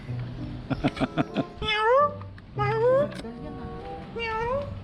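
A cat meows several times with rising, drawn-out cries, mixed with a person's voice and some clicking at the start.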